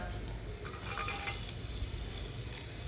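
Chopped garlic frying and browning in a pan for Khandeshi khichadi, a steady close sizzle running throughout with faint stirring.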